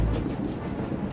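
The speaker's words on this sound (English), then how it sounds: "Stop the train, Theron." A moving train in the Star Wars: The Old Republic video game, a steady low rumble with faint rolling rail noise throughout a brief stretch, heard alone.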